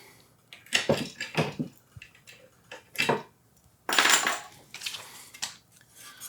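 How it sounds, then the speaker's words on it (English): Scattered metallic clanks, scrapes and clicks come at irregular moments, close by, as a metal clamp is fitted onto an Arca Swiss rail on an LMT MARS-H mount; no one speaks. "So I just use this clamp that will actually interface with the upper pick rail."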